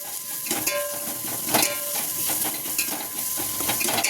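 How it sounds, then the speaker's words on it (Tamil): Garlic, fennel seeds and ginger sauté in hot oil for a mutton curry, a steady close sizzle broken by repeated scrapes and clinks of a spoon stirring against the pan. "இந்த பூண்டு சோம்பு இஞ்சி எல்லாத்தையும் போட்டு ஒரு வதக்க நல்லா வதக்கணும்"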